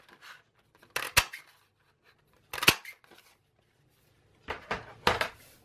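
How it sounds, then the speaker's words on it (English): A spring-shaped paper punch clamps through cardstock three times, each a sharp close crunch and snap spaced about two seconds apart, in an otherwise quiet room. "I'm going to cut about 4 of these springs"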